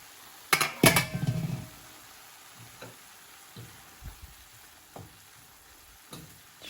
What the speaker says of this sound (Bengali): প্রথমে রসুন দিয়া একটা দাগ দিছি, বাগারের মতো একটা দাগ দিয়া অনিয়ন দিছি